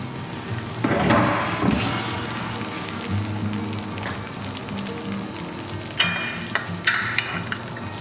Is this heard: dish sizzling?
yes